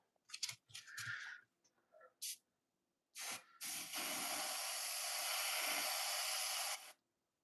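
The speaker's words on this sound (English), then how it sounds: "and yes, paint is coming out" Paint sprayer driven by an air compressor, spraying onto a glove: a few short hissy bursts, then one long steady close hiss lasting several seconds before cutting off, with no talking.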